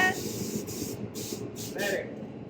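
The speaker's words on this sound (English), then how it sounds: "Short intermission while we were spraying to take off the soft top." Spray gun applying pink paint to a car, with a steady close hiss broken by short pauses as the trigger is released, and a person talking faintly underneath.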